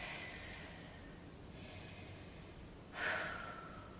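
Several audible breaths, with a slow exhale during an ab workout stretch and a sharper, louder breath out near the end, close and unaccompanied by talking.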